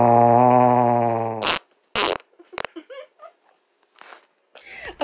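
A long, loud, sustained fart with a steady buzzing tone, followed by a few short bursts and scattered small noises, no talk over it.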